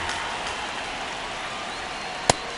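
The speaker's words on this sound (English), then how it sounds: "This rain is not letting up." Steady rain falling at a baseball stadium during a Chicago White Sox versus Chicago Cubs game, an even hiss of rain across the whole stretch with one sharp brief crack near the end.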